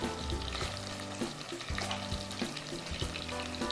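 Pasta stirred in a hot pan alongside onions and peppers, a steady close sizzle with repeated scraping and stirring strokes throughout, no voices.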